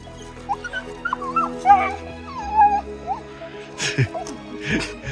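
A female dog, frightened, whimpers and lets out high yips in short bursts, close by, with a person talking softly underneath.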